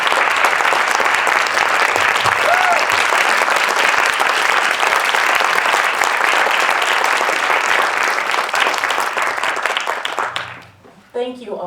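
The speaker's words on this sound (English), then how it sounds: "Will you please stand and receive a well-deserved round of applause?" A large audience at a science and literature awards ceremony gives sustained, loud applause lasting about ten seconds, dense and steady before it fades quickly at the end.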